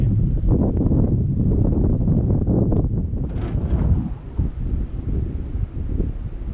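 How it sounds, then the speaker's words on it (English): Wind gusts outdoors by the water on a fishing trip, a loud, continuous rumbling buffet against the microphone that eases and surges unevenly. "Look how the wind blows."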